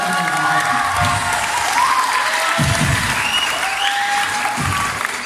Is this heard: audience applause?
yes